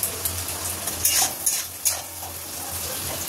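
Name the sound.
spice paste frying and being stirred in a pan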